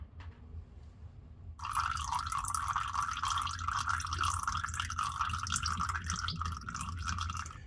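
Fluid draining from the engine of a 2008 Acura MDX during engine block removal, a steady close trickling and splashing stream that starts abruptly and runs on continuously, with no talk.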